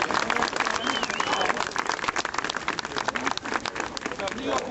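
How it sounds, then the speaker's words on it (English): A crowd at an outdoor rally in Broadway Flushing applauds for a TV station, with scattered uneven clapping, shouts and crowd noise mixed with voices. "I want you to applaud New York One."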